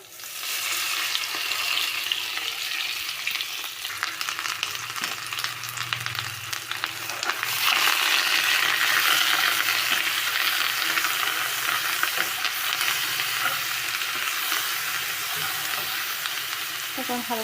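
Spices sizzle and crackle steadily in hot oil in a wok for an egg and potato curry, with a dense frying hiss that swells louder about halfway through and stays close and continuous.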